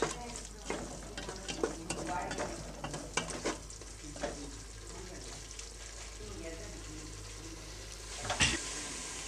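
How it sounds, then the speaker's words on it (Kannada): Paneer coated in masala fries in a pan while being stirred, giving a steady close sizzle broken by repeated scraping strokes and a louder clatter of the spoon near the end. "ಇವಾಗ ಒಂದು ನಿಮಿಷ ಆಗಿದೆ ಮಸಾಲೆ ಪನ್ನೀರ್ಗೆ ಚೆನ್ನಾಗಿ ಫ್ರೈ ಆಗಿದೆ"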